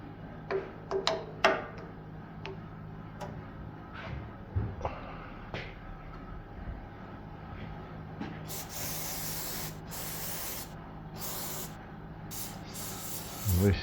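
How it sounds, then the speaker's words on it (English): Carb cleaner sprayed while working on an old MTD engine: hissing aerosol bursts in the latter half, after scattered clicks and tool taps in a workshop. "Be staring at the carb cleaner while you're spraying it."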